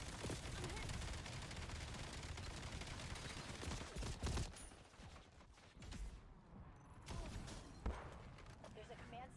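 Dense, continuous gunfire from the video game Black Ops 7, loud bursts rattling almost without pause and easing briefly near the middle before picking up again.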